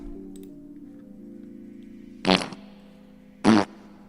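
Two short fart blasts from a played SoundCloud comedy track, the second louder than the first, over a low steady hum.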